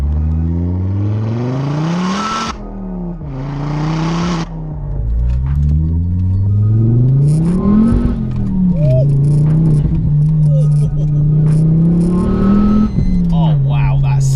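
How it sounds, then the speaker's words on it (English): A 400 bhp Ford Focus RS in WRC Michelin livery revs and accelerates, its exhaust note rising and falling in loud, continuous pulls with brief lifts between them, while a person talks over the engine throughout. "The exhaust system on this one just sounds completely different."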